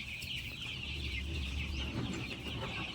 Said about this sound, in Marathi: हे बा आपले पिल्ल्या कशी उडत येत.